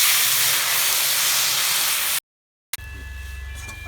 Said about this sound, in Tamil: இப்போ இந்த தக்காளி காயும் போட்டு நல்லா வதக்கணும்.